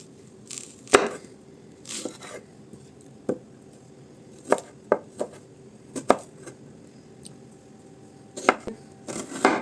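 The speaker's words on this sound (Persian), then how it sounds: "3 عدد پیاز نسبتاً درشت رو به این صورت برش میزنم" A knife chops through three fairly large onions in a kitchen, giving irregular sharp knocks on a board, some single and some in quick clusters, close and fairly loud with quiet pauses between.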